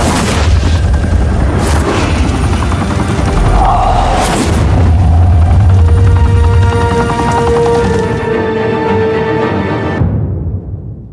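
Loud booming gunfire and explosions from the Telltale Batman video game, heavy blasts in the first seconds followed by a continuous roaring, rumbling barrage that cuts off abruptly near the end.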